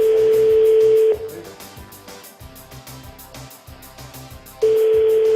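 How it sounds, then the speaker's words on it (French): An outgoing telephone call rings out: a clear, steady ringback tone sounds, falls silent for a few seconds, then sounds again. "J'appelle donc Jérôme Commandeur."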